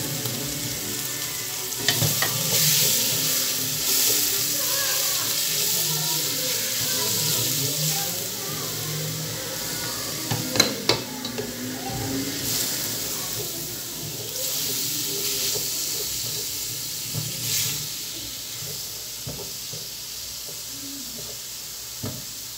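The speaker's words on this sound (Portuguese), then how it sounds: "tô fritando aqui a carninha suína" Close, steady sizzling and crackling of pork frying in a pan, with occasional clinks and stirring, and a voice talking faintly underneath.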